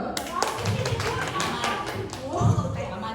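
An audience at a psychoeducation seminar claps in scattered, uneven bursts while people talk over the applause.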